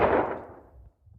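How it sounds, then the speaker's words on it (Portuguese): A single gunshot from an anime scene rings out at the start with a sharp attack, then decays over about a second, followed by a faint low rumble. "ouve-se um disparo."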